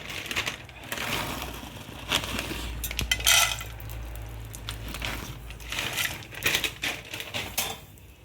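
Cashews and raisins roasting in a pan for rava laddu, with scattered clinks and scrapes of a utensil against the pan over a low, steady background.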